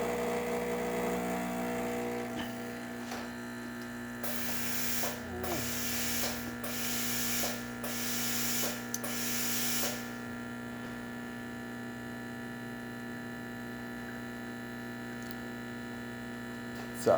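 A Rancilio Epoca espresso machine hums steadily through a test shot after a full tune-up, with several brief hissing or pumping bursts in the middle over a constant mechanical drone, close by.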